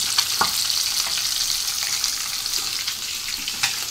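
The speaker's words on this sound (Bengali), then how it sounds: "এই যে 100 গ্রামের একটা মাথা ভাজা হচ্ছে, বেশি বড় না, ছোট্ট" Continuous sizzling of a small 100-gram fish head frying in a pan, with occasional clinks and stirring scrapes, close and fairly loud.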